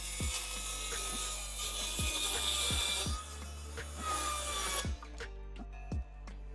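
Handsaw strokes cutting a wooden board to length, a steady series of rasping pushes and pulls close by, ending in a few separate knocks and clicks.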